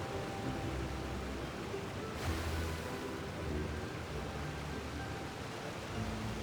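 Steady roar of a crashing waterfall in the video game Genshin Impact, a continuous broadband rush of falling water holding even and full throughout with no voices over it.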